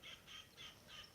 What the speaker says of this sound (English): I wonder what kind of bird that is making that squawking sound over it.